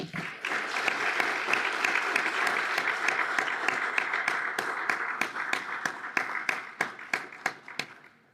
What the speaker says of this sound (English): can we give our award winners another round of applause, please?